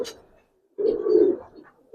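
A single Kalpetti hen pigeon of an old breed gives one soft, low coo lasting under a second, close by in a quiet setting, after a brief faint sound at the start.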